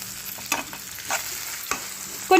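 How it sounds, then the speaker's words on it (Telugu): Green chillies frying in oil in a pan for a chilli chutney, a steady close sizzle broken by a few stirring scrapes, continuous and moderately loud with no talking. "సో ఇలా బాగా వేయించేసుకోవాలి."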